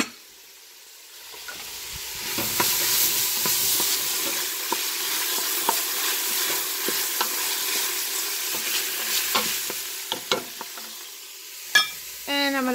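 Carrots and mushrooms sauteing in a pan for keto sausage lentil soup, a steady close sizzle and hiss with scattered utensil scrapes and clicks throughout, no talking.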